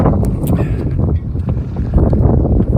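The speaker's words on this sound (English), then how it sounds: "It's a bit blustery today, Saturday morning" Strong gusts buffet the microphone on a blustery Saturday morning outdoors, a loud constant low rumble of wind noise with brief rises and dips.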